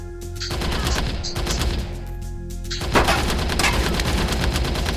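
Gunfire from a VR light gun in the Operation Warcade VR arcade shooter, loud continuous machine-gun rattle with rapid repeated shots over game music, barely any talk.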